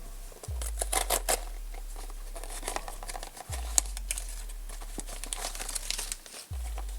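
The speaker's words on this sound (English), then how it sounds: "Let's open the box up." Cardboard box of a Velleman Shaking Dice electronics kit being opened by hand, with crinkling packaging and paper rustles, soft scrapes and a few sharp taps, close and fairly quiet, with a deep low thump recurring behind it.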